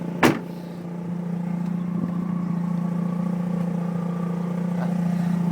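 A 2004 Mazda RX-8 rotary engine idles steadily after startup, a smooth, even hum at moderate level, with a sharp click or knock at the very start.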